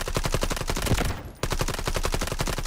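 An AUG rifle in the shooter game Delta Force fires in rapid full-auto bursts, a dense rattle of close, loud shots broken by a brief gap before the stream resumes.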